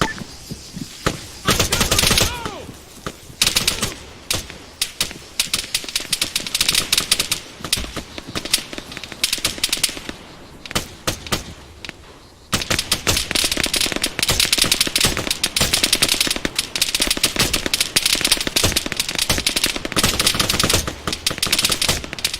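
Rifle fire in an Arma 3 infantry battle, with rapid loud cracks in dense bursts that grow into near-continuous automatic fire in the second half, and a few short pauses between volleys.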